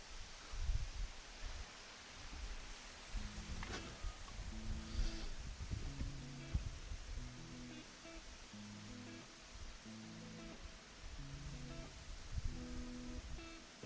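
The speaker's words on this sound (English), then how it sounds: "yo, it's windy as hell" Strong wind roars and buffets steadily outdoors, loud broadband gusting with low rumble, while faint musical tones sound underneath.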